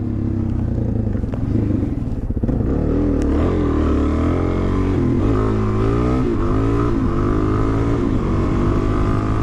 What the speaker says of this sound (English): Just twist the throttle all the way, just